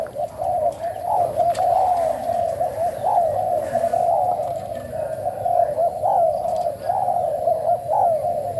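Malay-line spotted doves coo nonstop at close range, their soft, repeated, rolling calls overlapping in a steady rhythm with a faint background hiss.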